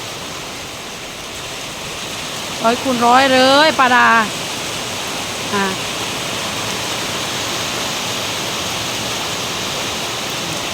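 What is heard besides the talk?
heavy rain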